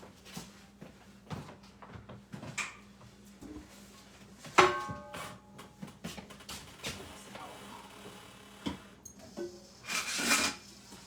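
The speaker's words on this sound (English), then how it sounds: "Let me wipe out this butter from this frying pan." Cloth or paper towel rubbing and scraping butter out of a frying pan, with scattered clanks and knocks of cookware, moderately quiet and irregular.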